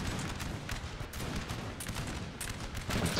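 Musket volleys in Napoleon: Total War at the Battle of Waterloo crackle as a continuous ragged fusillade, many overlapping shots at a distance with a few sharper nearer cracks, under a dense battle din.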